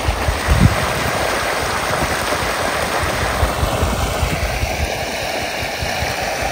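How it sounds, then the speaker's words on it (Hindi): Water gushes steadily through an irrigation pipe on a farm, a loud continuous rushing and splashing close by with an engine running underneath. "तो भाई ये चल रहा है पानी"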